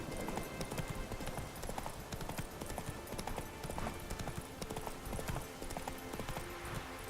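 Roach, the horse in the video game The Witcher 3, gallops with quick, rhythmic hoofbeats at a quiet level under a busy background, with no voices heard.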